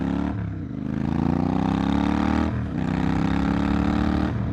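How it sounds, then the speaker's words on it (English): A Royal Enfield GT650 motorcycle engine drones steadily through its exhaust while riding, loud and close, with short dips between gear changes as the revs climb again. "The sound travels out, you know, the rear of the bike through the exhaust."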